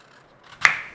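A knife slices through an apple in a single crisp, close cut, a short crunchy burst that fades quickly after a quiet moment.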